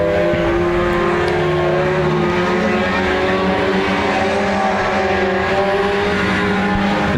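Stock cars race at Park Jefferson Speedway, engines roaring loud and steady as the pack runs close together, a continuous dense drone with shifting engine pitches.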